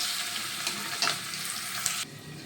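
Garlic sizzles in a pan of hot oil alongside bay leaves, a moderate steady crackle with a few sharper pops before it drops off near the end.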